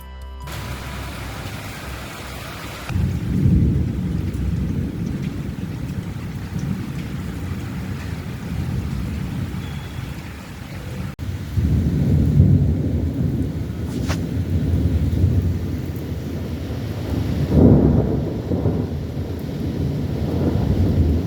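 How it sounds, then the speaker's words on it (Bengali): Heavy rain pours outside during a thunderstorm, a steady roaring downpour with deep thunder rumbles swelling in and out, loudest around a few surges, with no voices. "বাইরে কি মুষলধারে বৃষ্টি পড়ছে,"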